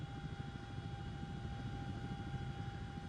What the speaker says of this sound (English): So I want to keep the helicopter quite low so that you can see the terrain as the soldiers will have seen it.